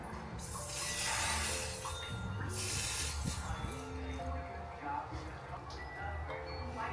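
A Dazzle Me Barbie airbrush blush sprays in a few short hissing bursts onto a face, close and sharp, over music playing in the background.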